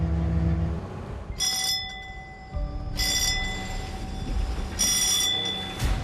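A bell rings aboard a 29-ton anchovy fishing boat at sea, three or four bright metallic bursts spaced about a second and a half apart over a steady engine drone.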